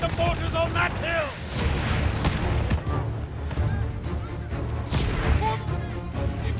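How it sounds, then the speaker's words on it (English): Mortar and artillery fire in the World War II shooter Call of Duty: Vanguard, heavy booming blasts and crashing impacts rumbling continuously at close range, with a shouted voice and whistling sounds mixed in. "Break off and deal with the mortars on that hill!"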